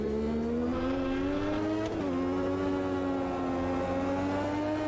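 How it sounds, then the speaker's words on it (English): A turbocharged race car engine in the Automobilista 2 racing game screams at high revs flat out, a loud sustained whine with the pitch dipping briefly at a shift and then climbing again. "The turbos are just mad as funky."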